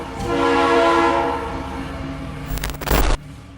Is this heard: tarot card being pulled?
no